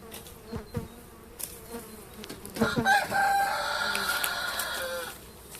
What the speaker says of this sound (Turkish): Bu arılar bize bal yapar.